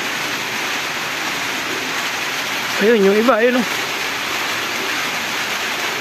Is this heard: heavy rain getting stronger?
yes